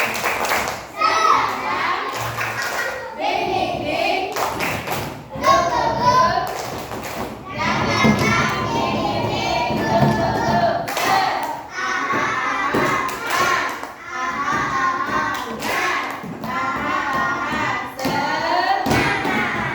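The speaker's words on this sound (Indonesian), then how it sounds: "Tepuk semangat dulu deh." Primary school pupils in a second-grade classroom clap a rhythmic spirit chant together, loud and close, with bursts of claps and thuds mixed with children's voices and shouting throughout.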